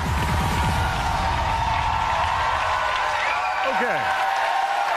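A large studio audience applauds and cheers steadily for several seconds, a dense wash of clapping with a few whoops rising out of it near the end.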